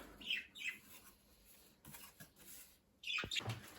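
Pet budgerigars in a cage give several quick, bright chirps in two bursts separated by a quieter stretch, with light rustling and movement in between.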